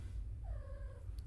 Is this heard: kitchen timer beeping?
no